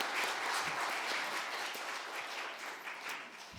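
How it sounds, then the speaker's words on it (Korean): A church congregation at a Sunday worship service applauds loudly together, a dense, even wash of clapping that holds steady for a few seconds before tapering slightly at the end. "크게 영광의 박수를 돌리겠습니다."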